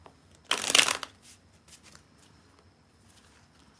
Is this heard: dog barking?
no